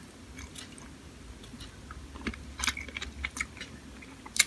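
Crunchy fresh vegetables, radish and cucumber, being chewed close up, with repeated crisp bites and crunches at an irregular pace, louder snaps near the end, alone with no talk.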